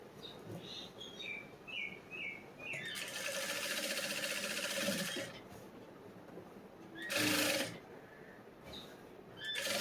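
A sewing machine runs while stitching a lined blouse, one long whirring burst of about two seconds and a shorter one later, fairly close, with birds chirping in the background.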